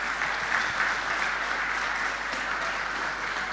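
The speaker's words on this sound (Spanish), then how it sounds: "Un aplauso para esas mujeres." Sustained applause from a church congregation during a live Sunday service, a steady dense wash of many hands clapping close and loud without letup, no talk over it.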